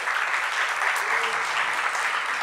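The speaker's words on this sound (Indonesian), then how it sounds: "Boleh sekali lagi tepuk tangan biar lebih semangat lagi." A theater audience at a Jakarta performance venue gives a sustained round of even applause, broad and constant from start to end, heard from within the crowd.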